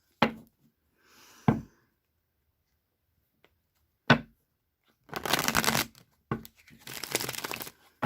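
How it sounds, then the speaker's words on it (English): A Rider-Waite tarot deck is handled and shuffled up close: sharp single card snaps and taps come first, then two longer riffling bursts of fluttering cards, crisp and fairly loud against a quiet background. "I love to always start with shuffle"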